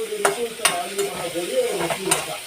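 Close, steady sizzling of onions being stir-fried in a pan, broken by regular scraping strokes of a stirring spoon every half second or so, with no voices.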